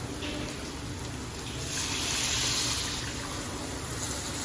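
Water poured from a cup into a pan of lightly fried chicken curry, a steady close gushing pour that swells in the middle and runs continuously without any talk.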